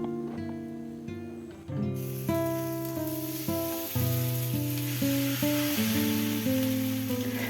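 A potato and two-egg omelette sizzles steadily in a pan after being flipped back in, a continuous frying hiss running under a louder melodic music track.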